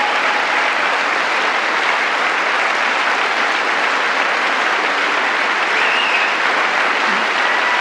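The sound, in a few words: audience applause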